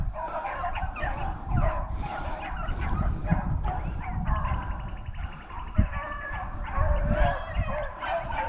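A pack of beagle rabbit dogs bays and yips continuously on the chase outdoors, their overlapping voices carrying from a moderate distance, steady and lively throughout.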